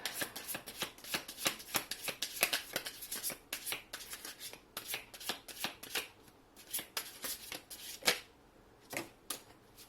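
Tarot cards being shuffled by hand, a quick series of crisp riffling flutters and taps close by, alone and fairly quiet, with a short pause before a final few bursts.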